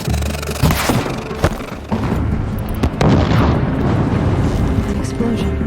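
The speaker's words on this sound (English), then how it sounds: "An explosion." A heavy explosion rumbles in Horizon Zero Dawn, loud and sustained with sharp cracks and thuds breaking through a continuous roaring wash of debris and fire.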